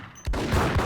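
In the video game Max Payne, a sudden loud burst of rapid gunfire erupts after a brief quiet moment and keeps rattling on, close and harsh.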